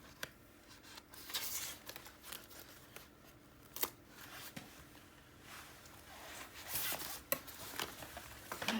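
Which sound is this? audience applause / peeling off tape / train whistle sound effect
peeling off tape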